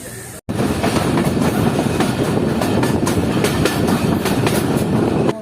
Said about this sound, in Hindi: हमारी ट्रेन तकरीबन जो है वो 5 मिनट बिफोर पहुंच चुकी है